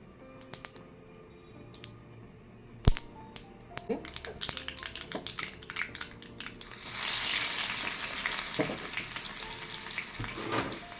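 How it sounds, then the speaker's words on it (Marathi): Mustard seeds crackle and pop sharply in hot oil, then garlic goes in and a dense, loud sizzle swells and holds, with scattered stirring clicks, for a spinach dish. "मोहरी तडतडली की नंतरच आपल्याला यामध्ये लसूण घालून घ्यायचं आहे"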